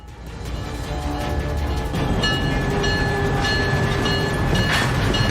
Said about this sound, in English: The train for the airport is about to depart.